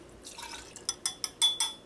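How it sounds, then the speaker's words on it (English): Absinthe pours into a glass in a home kitchen, a soft liquid trickle building into several quick splashy glugs near the end, close and fairly clear with no talking. "we're going to start out by taking 2 ounces on the line of our absinthe"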